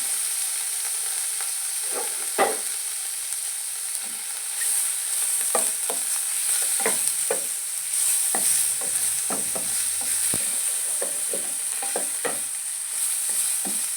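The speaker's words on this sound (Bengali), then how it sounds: "পনিরগুলো দিয়ে দিলাম, হালকা ফ্রাই করে দিলাম।" Paneer cubes frying in melted butter in a pan for palak paneer, a steady close sizzle and hiss with repeated scraping stirs and clinks of the spatula throughout.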